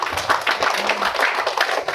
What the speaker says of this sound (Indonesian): Tepuk tangan untuk nama saya.